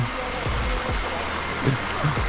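Steady rushing of a flowing stream, a broad continuous wash with no pauses, close by and fairly loud, on Phu Kradueng mountain in winter.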